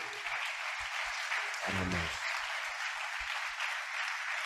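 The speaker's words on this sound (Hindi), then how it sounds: "क्यों ना एक जोरदार ताली यीशुआ के लिए बजाएंगे।" A church congregation claps together for Jesus at the close of a Hindi sermon's prayer, a steady wash of applause with a brief low rumble midway and faint scattered sounds beneath.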